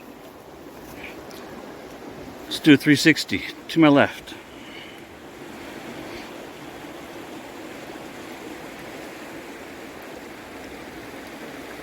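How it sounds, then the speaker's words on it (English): The McKenzie River rushes nearby as a steady broadband hiss throughout, while someone speaks briefly over it. "That river sounds a little loud to me"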